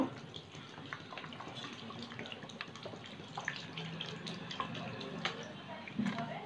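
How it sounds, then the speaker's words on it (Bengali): Cold water poured over boiled soya chunks, a steady running and splashing wash with a few drips and clinks, close by and moderately quiet. "এর মধ্যে ঠান্ডা জল দেব।"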